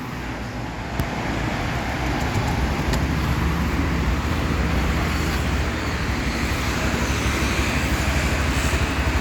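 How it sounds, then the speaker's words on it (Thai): A used Honda Lead 125 4V scooter with about 6,700 km starts with a brief catch, then settles into a steady, low, even idle hum heard up close. "เดี๋ยวเรามาฟังเสียงสตาร์ทกัน"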